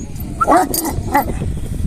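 A couple of short dog barks ring out, a little apart, over steady background noise.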